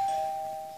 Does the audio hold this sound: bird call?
no